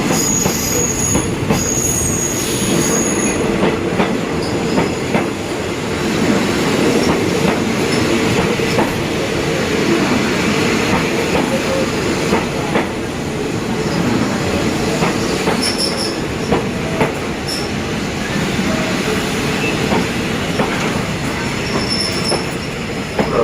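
Locomotive QSY 5217 hauling rapid train 135 from Bangkok toward Ubon Ratchathani rolls steadily past at close range, a continuous rumble of wheels and cars with squealing wheel noise and brief clacks throughout, no voices.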